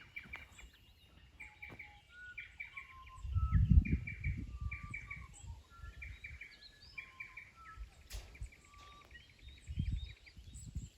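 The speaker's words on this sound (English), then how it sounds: "Check it out, listen to the birds." Small birds nesting in a pipe on a cattle farm chirp and trill in short repeated phrases on a breezy day, with a low rumble of wind gusting under the calls.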